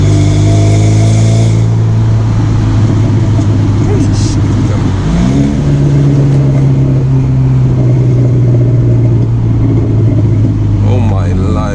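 A BMW 1 Series E88 revs hard as it accelerates toward 5,000–6,000 rpm, a loud, close engine drone with rising pitch sweeps and a voice talking over it.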